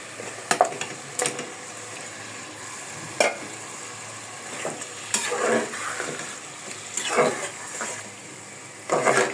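Meat being added to a pot of hot oil with bay leaves, onion and fried spices for bhuna khichuri, with soft sizzling and a utensil repeatedly stirring and scraping in uneven bursts, close and moderately loud.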